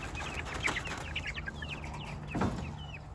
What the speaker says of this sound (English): And they pretty little chickens, though.